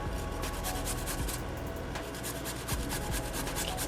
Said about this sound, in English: we're going to take our ginger and we're going to grate our ginger